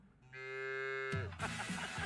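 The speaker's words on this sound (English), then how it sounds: "That's a cow." A cow gives one long, loud, drawn-out moo with a rich tonal drone, which cuts off abruptly into a burst of broad noise.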